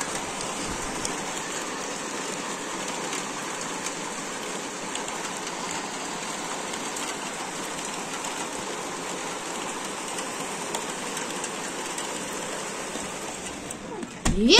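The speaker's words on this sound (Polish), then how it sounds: "Teraz trochę się uspokoiło, bo jak widzicie, no teraz też wciąż nieźle leje, ale to już jest taki opad ulewny" Heavy downpour over Kunów, a steady, dense roar of rain pounding surfaces throughout, loud and unbroken, with a brief louder burst at the very end.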